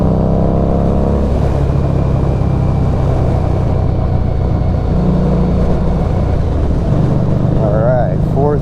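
A Harley-Davidson Street 500 motorcycle rides steadily in fourth gear, its engine droning continuously and close. Wind rushes throughout, and a voice briefly speaks near the end.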